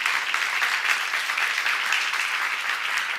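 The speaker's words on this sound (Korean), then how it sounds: "박수 한번 하세요" Dense, continuous applause from a church audience filling the space evenly, a full wash of many hands clapping together at a steady level with no talk over it.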